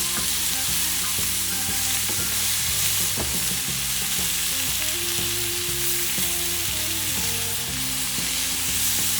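Scallops sear in a hot pan, giving a steady loud sizzle that runs throughout, joined by some clinking and stirring movement and a sustained musical tone in the background.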